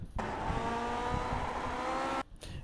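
Lotus 49 race car from the iRacing sim at Silverstone, its engine holding a steady high-pitched drone with layered harmonics for about two seconds before cutting off abruptly, with no one speaking.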